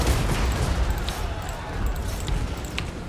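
Artillery bombards in a battle in the strategy game Total War: Warhammer II, a dense, continuous rumble of overlapping booms and sharp cracks that stays loud throughout.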